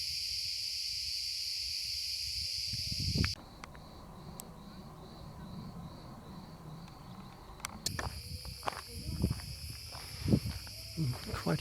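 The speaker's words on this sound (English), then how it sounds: "The cicadas are going flat out in the pine trees." Cicadas buzzing in pine trees near Antalya, Turkey, a loud shrill drone that cuts out abruptly then resumes, with footsteps and someone talking in the quieter middle stretch.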